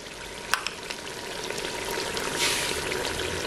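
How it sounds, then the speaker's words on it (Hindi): Beef frying in oil in a Pakistani-style pot after whisked yogurt is added, giving a steady close sizzle with a few sharp crackles and pops near the start. "जब ये गोश्त हमारा भुन जाएगा और तेल पर जिस तरह आ जाएगा, जिस तरह कि अब आ चुका है"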